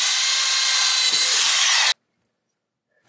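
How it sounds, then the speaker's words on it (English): A power drill whines steadily at high pitch for about two seconds while drilling holes in metal, then cuts off abruptly into silence before briefly starting again. "Now we're going to drill the centers of the holes for the square punch shaft."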